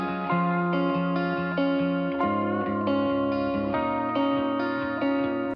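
Lead electric guitar intro played as a single track alongside a backing band, with effects and reverb; a steady melodic line over sustained chords, loud and continuous with no talking.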